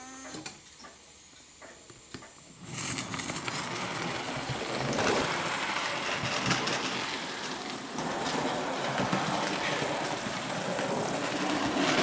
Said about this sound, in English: With the engine now in steam and running backwards and forwards, pulling wagons